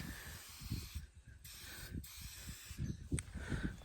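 Bursts of hissing from a spray can being applied in short passes, close and steady, with brief pauses between sprays and low rumbling handling noise underneath.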